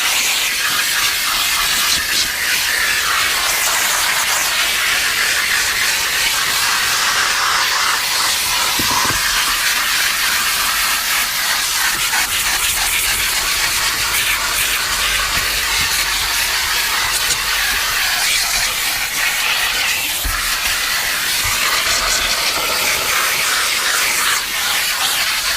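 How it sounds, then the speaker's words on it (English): A steam cleaner fitted with a horsehair brush works over a car interior, producing a loud, continuous hiss of spraying steam with slight fluctuations, alone and close. "I got a horsehair brush on here. So let me just get some steam out of it."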